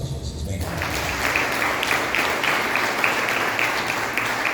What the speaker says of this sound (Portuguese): Palmas para Jesus, vem cá.